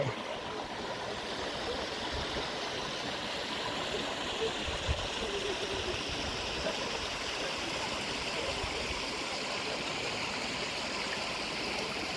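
Stream water flows at a bathing spot in a remote rural Lao village, making a continuous broadband rush and babble that stays steady and fairly close throughout.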